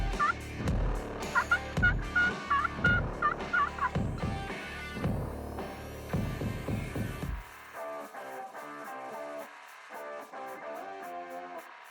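Wild turkey toms gobble in a run of loud, rolling calls at dawn near a roost, several repeated bursts close by, then fainter answering gobbles in the distance.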